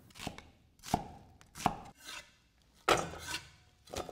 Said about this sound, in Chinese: 准备洋葱1个，对半切开之后切成小片备用。